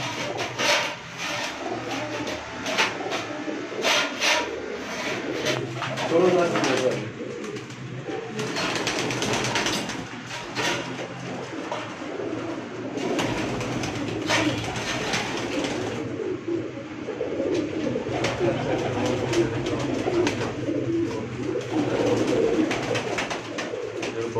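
Breeder pigeons on a rooftop coo in soft, repeated throaty calls, several birds overlapping at close range amid outdoor background noise.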